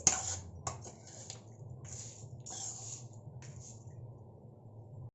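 A spoon mixes lemon rice in a pan, giving soft scraping, rustling strokes with a few light metallic taps. The sound is quiet and close, with no talk.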